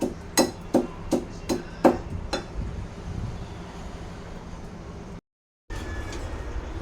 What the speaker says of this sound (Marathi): म्हणून मी खलबत्त्यात करत आहे